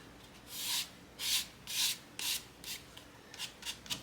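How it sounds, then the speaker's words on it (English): Hand sanding with 400 grit sandpaper makes a series of rhythmic back-and-forth rubbing strokes, close and fairly quiet, quickening toward the end with no talking. "This is 400 grit sandpaper. So you have to finish it by hand"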